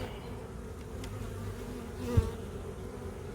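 Honeybees buzzing around an open hive frame during a spring inspection, a soft steady drone with one insect passing close and loud midway, no voices.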